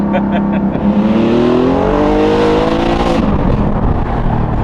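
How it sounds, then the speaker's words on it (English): A 606 HP DeMan 4.5L GT3 Touring car revs hard with a rising engine tone as the tires break loose, loud and close, then the pitch drops back after a sharp burst. "That was busting the tires loose."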